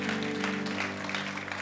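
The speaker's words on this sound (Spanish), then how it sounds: "Dele ese aplauso fuerte a Cristo porque Él es bueno." A church congregation claps steadily for a moment, a faint, continuous spatter of applause with no single claps standing out.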